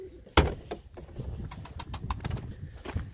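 Pigeons in a large coop coo and call nearby, with a sharp clatter at the start and scattered wing flaps among the soft murmuring.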